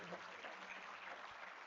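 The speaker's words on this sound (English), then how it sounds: "May I request everyone to join me in giving a big round of applause to Mr. Krishnan, sir." Audience applause at an international business conclave session, steady dense clapping throughout, fairly faint and distant in a large hall.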